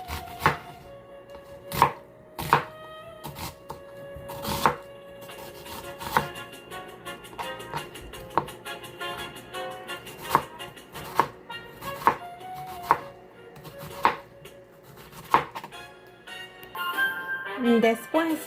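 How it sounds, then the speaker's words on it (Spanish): A knife chops a washed onion into small pieces on a cutting board in a home kitchen, sharp irregular thuds spaced a second or two apart, close and distinct, with faint background sounds between strokes. "Ahora paso a picar la cebolla en trozos pequeños después de haberla lavado."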